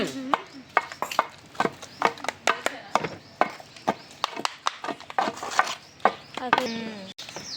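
Raw mango pieces with chili powder, fenugreek and mustard powder pounded coarsely in a stone mortar for pickle, a steady series of close, dull thuds and knocks with occasional scraping.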